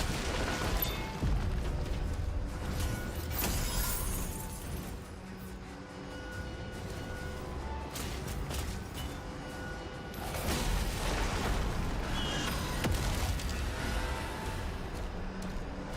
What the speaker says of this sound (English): Explosion sound for the Lost Soul is very satisfying.